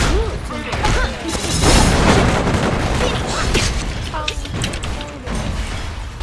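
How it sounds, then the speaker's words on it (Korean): Video game explosions rumble and crash in a dense, continuous barrage of booms and debris, loud throughout with faint voices mixed in. "폭발이잖아"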